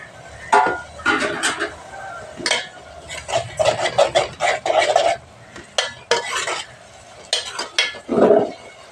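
Tomato pieces frying in a pan as a spoon stirs them, giving repeated scraping and clattering bursts in irregular clusters over a soft sizzle, close by.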